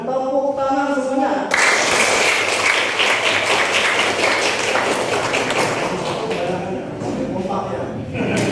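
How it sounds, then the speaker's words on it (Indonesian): A classroom audience bursts into clapping after a student presentation, dense applause starting sharply after a spoken line and continuing several seconds before tapering, with voices audible at the edges. "Kita belum mengapresiasi hasil karya dengan tepuk tangan semuanya."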